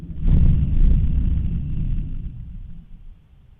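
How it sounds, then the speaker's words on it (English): Deep explosions on a live audio feed from Kharkiv during the war in Ukraine, heard as a loud muffled boom followed by a second blast and a long rumbling decay, distant and heavy, with no voices. "it looks like we just heard some booms there"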